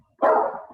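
A single dog bark rings out once, fairly loud and close, with a short tail as it fades, and no talking over it.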